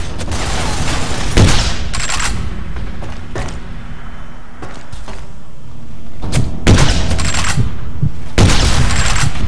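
Minigun fire in the video game Nuclear Dawn comes in loud, heavy bursts separated by quieter gaps, with thumping impacts between volleys.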